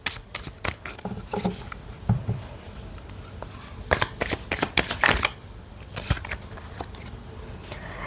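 Oracle cards being shuffled by hand in repeated crisp riffling bursts with soft papery patter, close and clear, no talking.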